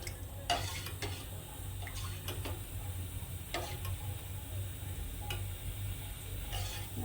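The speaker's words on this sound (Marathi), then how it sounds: "थोडा गॅस पेटून बारीक गॅस करून हलवत राहायचं 1-5 मिनिट" Kadhi (takachi kadhi) being stirred in a pot over a low gas flame, with light scattered ticks and scrapes of a utensil against the pot at an uneven rhythm over a steady low hum, fairly faint and with no talk.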